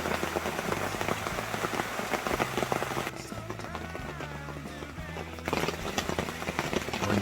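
Heavy rain drums steadily on a shelter roof over a deer hunting blind in the West Virginia woods. The downpour is a dense, continuous hiss, close and loud, that dips briefly partway through and then comes back.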